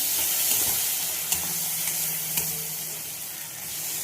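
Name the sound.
tomato sauce added to sizzling noodle pan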